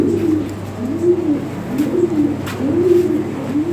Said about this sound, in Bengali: এগুলো ভালো কোয়ালিটি কবুতর